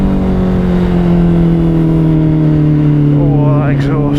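A Honda CBR 650R with a Scorpion exhaust drones loud and near, engine pitch holding steady then climbing through a couple of fast upshifts as it accelerates.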